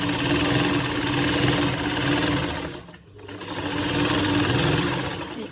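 A sewing machine runs steadily while stitching a lined shirt, with close, fast rhythmic whirring and a brief dip near the middle before it picks up speed again.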